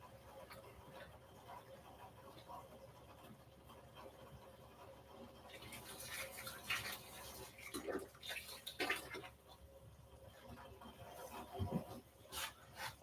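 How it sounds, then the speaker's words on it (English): A grain mash is stirred during an all-grain brew-in-a-bag brew day, giving faint, soft, wet swishing and scraping that grows busier partway through, quiet and close with no talking. "So I'm just going to give the mash one more stir here."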